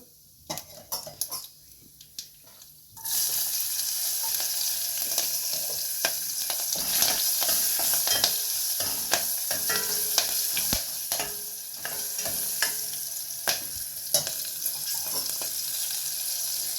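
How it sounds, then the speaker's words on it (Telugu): Potatoes, carrots, beans and green chillies fry in a pan, a few light clinks and taps before a sudden loud, steady sizzle takes over, broken by repeated scraping stirs and utensil knocks against the pan. "బంగాళదుంపలు, క్యారెట్, అలాగే బీన్స్ ముక్కలు అన్నీ కూడా మనము వేసేసుకొని అవన్నీ ఫ్రై అవ్వాలన్నమాట."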